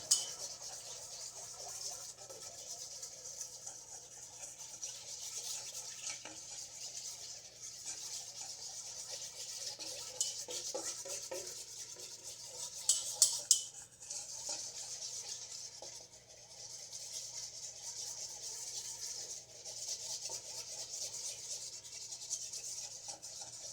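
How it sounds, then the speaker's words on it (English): Probiotic yogurt starter for Lactobacillus reuteri yogurt is stirred into a paste in a container, giving a continuous soft scraping and rubbing at close range, steady throughout with a few brief clinks. "So mix that up until it's a little bit of a paste"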